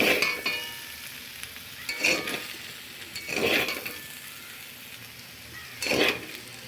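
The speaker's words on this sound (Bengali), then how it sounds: "এবার গ্যাসের আঁচটা একটু বাড়িয়ে আমি এগুলো ভেজে নেব" Potatoes and pointed gourd frying in oil over a raised gas flame, stirred in bursts: three or four loud scraping, sizzling stirs against a steady background hiss, with no talking.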